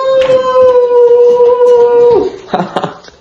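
A dog gives a long, loud, sustained howl at close range that holds steady and then drops away, followed by a few short yelps and vocal sounds, with a person joining in.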